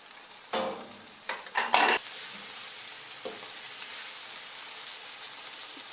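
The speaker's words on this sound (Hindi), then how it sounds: "थोड़ी देर भूनेंगे" Onions and tomatoes sizzle softly in a hot pan for kofta curry, with a few scraping stirs near the start before a steady gentle frying hiss continues alone.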